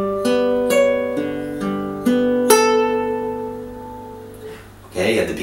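Fingerstyle guitar plays a short passage of a piece from Lord of the Rings, a handful of clear plucked notes ringing close and sustained, followed by a brief soft noise at the end.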